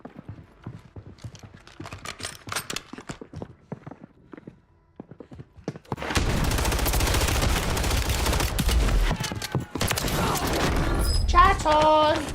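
Gunfire in Call of Duty Warzone: scattered light clicks and movement sounds, then a dense, loud stretch of sustained firing and noise lasting several seconds that ends in sharper metallic bursts.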